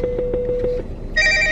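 A phone rings in a car with the engine running, a repeating electronic trill of quick pulses that stops and gives way to a brighter, steady tone, close and fairly loud.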